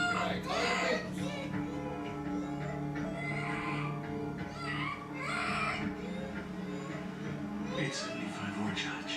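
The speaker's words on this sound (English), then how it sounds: "That baby keeps screaming." A baby screams and wails from a TV crime drama scene, the cries rising and falling over about nine seconds, mixed with adult dialogue and tense background sound.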